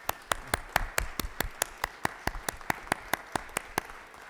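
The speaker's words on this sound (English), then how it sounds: "a welcoming round of applause" Sparse, evenly spaced hand claps ring out in a state senate chamber, a small group's applause of sharp individual claps that gradually thin out.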